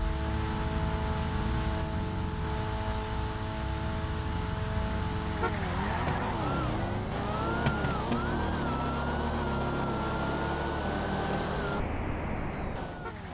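Nissan Z and Dodge Hellcat drag racing in Grand Theft Auto, loud sustained engine roar with the pitch climbing through gear changes, continuous and close, with a siren-like whine rising midway.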